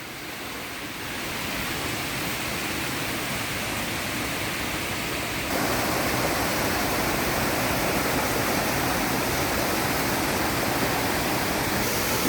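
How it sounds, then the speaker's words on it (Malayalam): A small waterfall flows beside hilly land, a steady broadband rush that grows slightly louder partway through, with no voices. "ചെറിയൊരു വെള്ളച്ചാട്ടമാണ് നമ്മുടെ പറമ്പിൻ്റെ സൈഡിൽ കൂടെ തന്നെ ഒഴുകുന്നതാണ് കേട്ടോ"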